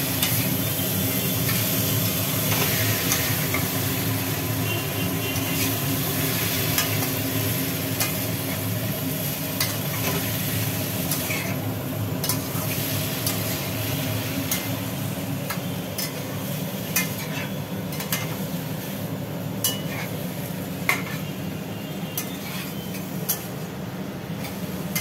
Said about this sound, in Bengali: এবার এঁচোড় আর আলু ঢেলে দিলাম, টটে রান্না। এবার এটাকে বেশ করে ভাজতে হবে